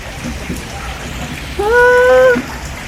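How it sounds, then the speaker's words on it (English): Heavy rain pours steadily in a dense hiss, with a short high tonal call rising briefly over it partway through. "it is raining cats and dogs"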